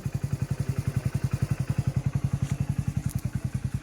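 A motorcycle engine putters nearby in a fast, even rhythm of low thumping pulses, steady and alone.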